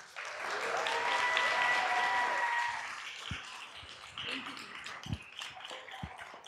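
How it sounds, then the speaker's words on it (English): Audience applause welcomes Doctora Aquino at a Latinx health policy summit, a dense, steady round of clapping for about three seconds with a few whistles, then thinning and fading under scattered taps and light crowd noise. "please welcome with a round of applause"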